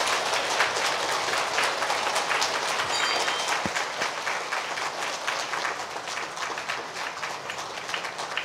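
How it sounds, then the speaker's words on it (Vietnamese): An audience at a Buddhist gathering applauds to welcome a monk, dense continuous clapping from many hands that stays fairly even, with a brief thump midway. "toàn thể đạo tràng dương cao một tràng pháo tay để cung đón Hòa Thượng Quang Lâm."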